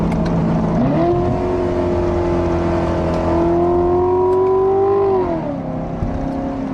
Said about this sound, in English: there's that nice little crackle from the exhaust when you get hard on the gas